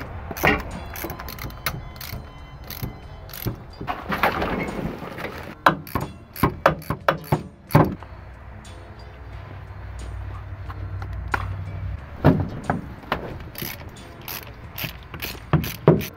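Ratchet wrench clicks in quick irregular bursts while pulling spark plugs from a 1974 Dodge B300 engine, close and fairly loud, with occasional clanks of tools and a low steady hum between bursts.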